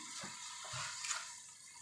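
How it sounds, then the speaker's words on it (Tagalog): Water poured into a cooking pot holding browned corned beef and carrot, a soft steady splashing stream, faint and close. "Tapos maglalagay na tayo dito ng ating water."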